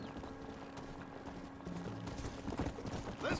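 A skinny, worn-out horse's hooves clip-clop steadily in the video game Red Dead Redemption: Undead Nightmare, a quiet, continuous rhythmic trotting over a low ambient rumble.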